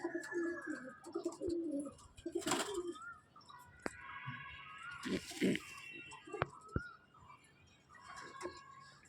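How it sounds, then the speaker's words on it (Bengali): Old-bloodline pigeons in a home loft coo repeatedly in low, rolling phrases, with wing flutters and clicks mixed in, fairly quiet and close, overlapping calls from several birds. "এইগুলো সব পুরনো ব্লাডের পায়রা, অনেক পুরনো লাইনের পায়রা।"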